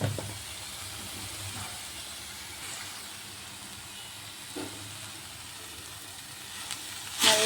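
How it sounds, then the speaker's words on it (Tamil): Grated carrots sauté in a hot pan for carrot halwa, giving a continuous soft hiss and sizzle, close and steady, with a few faint clinks. "நல்லா வதங்கட்டும்."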